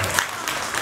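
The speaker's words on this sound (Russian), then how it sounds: "Ваш аплодисмент." An audience breaks into applause, a brief dense burst of clapping filling the whole moment.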